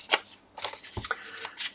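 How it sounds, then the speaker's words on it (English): Edges of a torn piece of music paper are scuffed and distressed with quick, close rasping and flicking strokes in short bursts, papery and crisp, with no talking. "I might actually distress around the edges on this piece of music paper"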